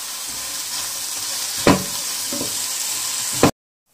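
Onions sautéing in a pan for coriander chutney give a steady, close frying hiss, broken by a couple of spatula scrapes before the sound cuts off abruptly.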